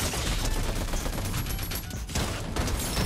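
Rapid gunfire rattles in Fortnite, dense bursts of loud shots with brief gaps, close and continuous across a few seconds.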